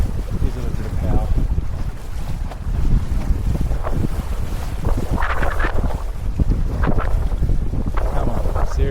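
Gusty wind while sailing across the middle of Pittwater bay, roaring loudly across the microphone in uneven surges, with splashing water and rushing waves underneath.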